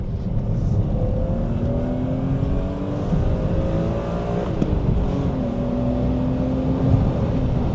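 A BMW E34 M5 engine accelerating hard through gears, a rising drone that climbs in pitch with brief drops at each shift, loud and steady from inside the car.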